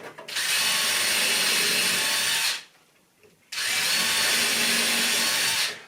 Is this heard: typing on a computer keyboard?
no